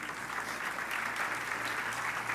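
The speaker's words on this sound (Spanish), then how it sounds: "Denle un aplauso al Señor" A church congregation applauds for the Lord, producing a continuous soft patter of many hands clapping, fairly distant and even, under a low steady hum.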